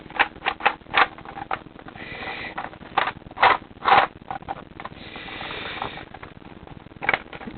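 Plastic parts of a Nerf Recon blaster, including its bolt and bolt sled, click, rattle and scrape as they are fitted together by hand in a series of close, irregular knocks.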